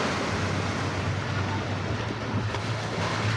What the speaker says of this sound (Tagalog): Yan ang dagat, oh.